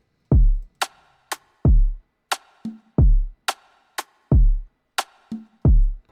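A couple of mellow, hollow conga hits pop in between punchy kicks and cracking rim shots, forming a looping percussion groove.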